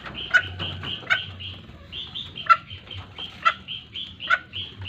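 Soft, raspy clucking from a junglefowl sick with a cold and runny nose repeats every second or so, with a faint high chirping running steadily in the background.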